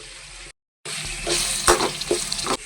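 Egg rice spices such as turmeric stirred and frying in a pan, a close sizzle with scraping stir strokes after a brief silent gap, no talking.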